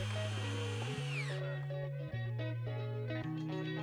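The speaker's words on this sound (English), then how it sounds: "which is the main piece of kit that we use for drilling the holes" Auger drilling holes for a recycled plastic boardwalk, a close, loud motor whine that holds steady and steps in pitch as the load changes, running continuously without speech.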